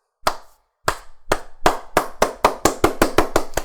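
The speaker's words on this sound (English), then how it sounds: "And to that, claps." Hand clapping by a single person, sharp close claps starting slowly with wide gaps, then speeding into a quicker, evenly spaced run of about a dozen crisp claps.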